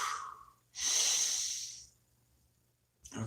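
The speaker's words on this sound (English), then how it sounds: "Take a nice deep breath." A single deep breath comes in close and loud, a long airy inhale lasting about a second that fades slowly, followed by a short start of another breath.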